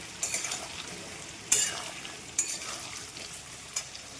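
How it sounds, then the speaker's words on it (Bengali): Pumpkin and mixed vegetables frying in a wok, a soft steady sizzle broken by several sharp scraping clanks of a spatula against the pan, close up and without speech. "চলো কুমড়োটা ভাজা হোক একটুখানি"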